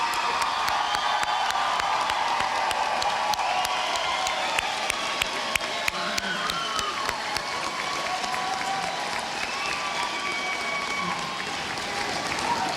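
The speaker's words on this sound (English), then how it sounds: "Let's have one more round of applause for our class of 2019." A large graduation audience applauds and cheers for a graduating class, with a steady wash of clapping and scattered whoops throughout, a crowd-wide ovation that never lets up.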